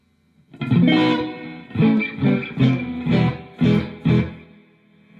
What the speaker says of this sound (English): There's a bit of reverb on the amp.